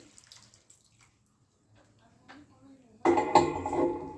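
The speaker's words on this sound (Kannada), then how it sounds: "ಈ ಅಂತಕ್ಕೆ ನಾನು ಅರ್ಧ ಗ್ಲಾಸ್ ಆಗುವಷ್ಟು ನೀರನ್ನ ಹಾಕೋತಾ ಇದ್ದೀನಿ" About half a glass of water is poured into tomato gojju in a pan, giving a sudden loud splash and sizzling rush in the final second after quiet kitchen sounds and a faint voice.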